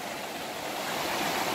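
Water trickles and rushes through a river slack below a weir, a continuous broad hiss of flowing water, steady and fairly faint, with no voices.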